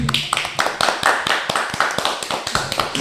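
Hands clap in a brisk, uneven run of sharp claps during a casual podcast chat, close and loud, with voices talking faintly in between.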